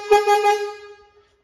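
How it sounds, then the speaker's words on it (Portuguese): A single short blast from an original truck horn, a bright harmonic tone with a slight wobble, close and loud, fading out in just over a second. "Vamos ver a buzina se ficou forte."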